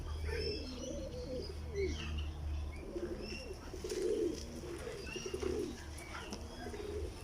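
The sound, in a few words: Philippine pigeons cooing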